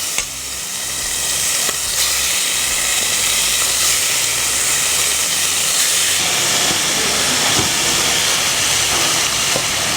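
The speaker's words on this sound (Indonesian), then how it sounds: "Ini aku akan sear sebentar setengah mateng ayamnya." Chicken searing in hot oil in a pan over high heat for a butter chicken curry, a steady, loud, close sizzle and hiss that holds throughout without a break, with no voices.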